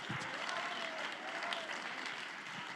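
Applause from an audience at an apostolic church youth conference fills the room as a steady, dense wash of clapping that holds at an even level throughout, with no voices standing out.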